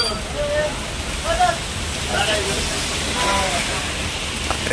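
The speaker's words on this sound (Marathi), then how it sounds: "एवढा पाऊस पडतोय" Heavy rain pours steadily outside a food shop in Goa, a dense, continuous hiss filling the background while people talk over it.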